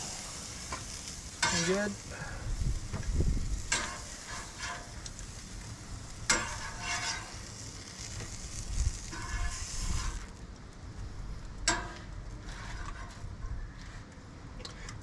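Onions sizzle on a Kamado Joe grill with a steady frying crackle, broken by occasional sharp scrapes and clinks of a utensil, while a person briefly speaks.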